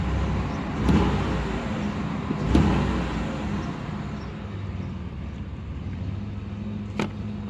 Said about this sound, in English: We'll get another little clip of the exhaust